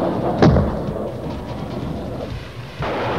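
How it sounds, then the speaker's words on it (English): A Mirage fighter firing a Matra air-to-air missile gives a single sharp, loud launch blast that quickly settles into a steady rushing roar, lasting a few seconds with no voices. "The second Mirage aircraft is firing the Matra missile."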